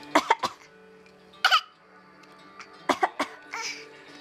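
A small child makes a string of short, breathy cough sounds imitating adult coughing, in clustered bursts with brief pauses between.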